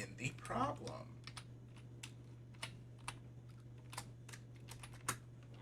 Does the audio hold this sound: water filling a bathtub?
no